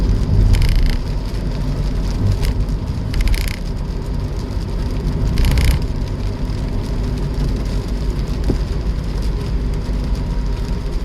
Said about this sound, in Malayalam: ഇവിടെ നല്ല വെയിലും മഴയുമാണ്.